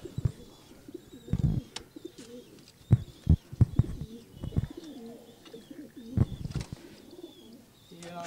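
Fancy pigeons kept by a pigeon fancier coo in short, low, throaty bursts, several birds calling close by with uneven pauses between phrases against a quiet background with faint chirps.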